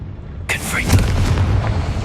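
A Confringo blasting spell from Hogwarts Legacy erupts at about half a second as a sudden loud burst, then rumbles and crackles on for over a second and a half while a voice talks over it.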